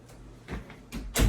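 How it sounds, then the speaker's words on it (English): An indoor door is pushed shut, with a couple of soft knocks and shuffles followed by a firmer closing thud at the end, close by with no talk. "had to close that door"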